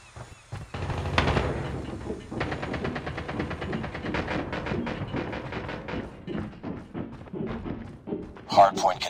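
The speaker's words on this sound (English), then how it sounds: "Sentry gun deployed." Automated sentry gun in Call of Duty: Mobile firing rapid, steady bursts of shots over several seconds, loud and close, mixed with game announcer voice lines and other combat effects.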